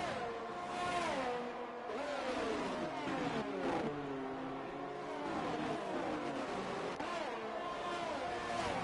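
F1 race cars at Suzuka in a racing video game, high-pitched engines revving and shifting continuously through gears, several cars' whining tones overlapping at steady loudness.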